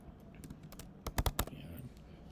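Typing on a computer keyboard: a short burst of quiet key clicks, then a few louder, distinct taps close together near the middle, fairly soft and close with no talk.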